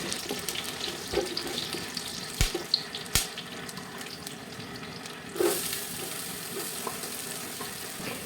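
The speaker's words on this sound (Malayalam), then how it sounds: "സവാള ഇതിലേക്ക് ഇട്ടിട്ട് ഒന്ന് നല്ല വാട്ടിയെടുക്കുന്നുണ്ട്." Onion and garlic sautéing in oil in a pan, a steady moderate sizzle broken by a few sharp spatula clanks and stirring scrapes, with the hiss briefly swelling partway through.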